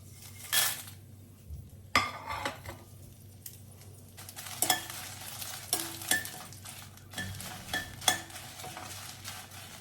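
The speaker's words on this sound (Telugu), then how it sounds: "ఈ స్టవ్ వేడికి ఇది ఎండుమిర్చి అనేది వేగిపోతుంది అన్నమాట" Dried red chillies frying in hot oil on a stove for mango pachadi, with soft sizzling under sharp clinks and scrapes of a ladle on the pan, fairly quiet and with no voices.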